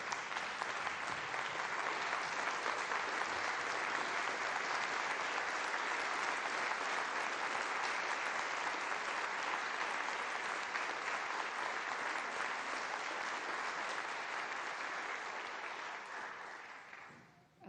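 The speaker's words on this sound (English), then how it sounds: "a final round of applause for these amazing students" A final round of applause for students at a Lexington town meeting ceremony: a large crowd claps in a sustained, dense, even roar for about seventeen seconds before tapering off quickly at the end, with no talk over it.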